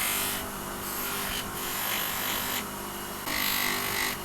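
A cotton stick mop buffing wheel polishes the chrome of a 90-year-old wheel spinner, a steady motor whir with rising and falling rubbing hiss as the part is pressed against the spinning mop.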